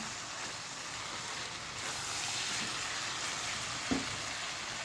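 Chicken pieces fry in a pan, giving a steady, fairly soft sizzling hiss throughout, with one brief knock near the end.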